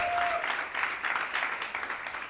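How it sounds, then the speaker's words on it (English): Comedy show audience at a theater clapping together in a steady, moderately loud burst of many hands that gradually thins toward the end. "Clap it up for yourselves."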